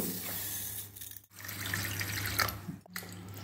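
Basmati rice being rinsed by hand in a bowl of water, with steady splashing and running-water sounds throughout and two brief pauses.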